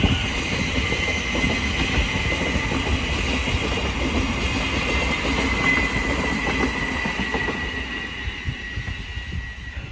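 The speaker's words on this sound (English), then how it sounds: "Now departing is the Great Northern service from Letchworth CSD to Hertford North" A Great Northern train from Letchworth to Hertford North pulls away from Hitchin station on the East Coast Main Line, a steady close rumble of wheels and motors with faint rail squeal throughout.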